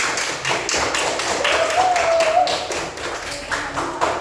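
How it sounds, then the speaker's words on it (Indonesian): Primary school classroom bursts into applause for group 1 after a coding lesson exercise, a few seconds of brisk, close, uneven clapping from many hands. "tepuk tangan untuk kelompok 1"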